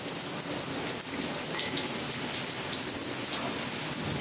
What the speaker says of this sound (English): it's been about 30 minutes since I was recording earlier, and it's still raining